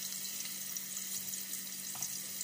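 Fish frying in hot oil on a stovetop, heard as a steady, close sizzle and crackle with faint spattering throughout and no talking.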